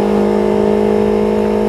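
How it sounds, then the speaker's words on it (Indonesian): A Yamaha MT-25 motorcycle fitted with an R9 H2 exhaust holds a loud, steady, bassy rev right up close, a constant droning engine note with no talking. "jadi kayak gini suaranya knalpot R9 yang model H2 di Yamaha MT25."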